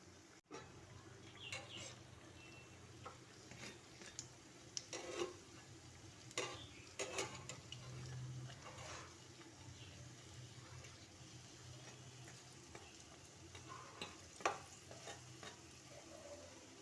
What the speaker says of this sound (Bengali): তেলটা ভালো করে গরম হয়ে গেলে মটর ডাল দিয়ে তৈরি নিরামিষ মাছের পিসগুলোকে ভালো করে ভেজে নিতে হবে